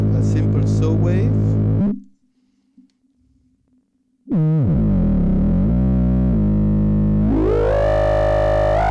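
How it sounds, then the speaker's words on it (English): A plain saw wave from an Eowave synthesizer, a bright buzzing tone that drops out for a couple of seconds before returning loud and sustained, then sliding upward in pitch. "Here a simple saw wave."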